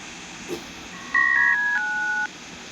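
Phone dialing tones from a video game: a short click, then a run of steady dual beeps, each held about half a second, stepping one after another, clear and alone.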